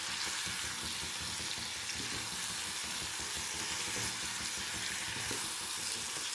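Eggplant frying in a pan with salt, a steady soft sizzle running continuously and fairly quiet, with no voices.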